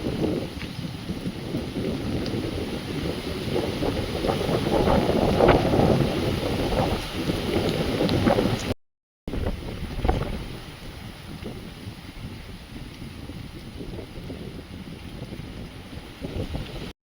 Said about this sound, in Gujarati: જોરદાર પવન સાથે વરસાદ આવી રહ્યો છે